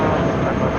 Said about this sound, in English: This is Idlewild Blue taking off to San Francisco, JetBlue Airways 2736 on an A320.